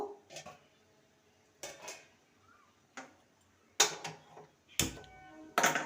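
A metal wok set down on a gas stove in a home kitchen, a series of separate clanks and knocks spaced irregularly, close and fairly clear with quiet gaps between.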